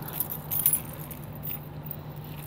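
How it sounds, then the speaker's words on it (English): A bunch of keys dropped and jangling, a bright metallic clatter clustered near the start, then fading into a quiet room background with a low steady hum. "I just dropped all my keys."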